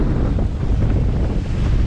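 Tropical Storm Isaias wind buffeting the microphone at a dock in Cape Coral, Florida, with waves churning nearby, a loud, unbroken roaring rush that never lets up.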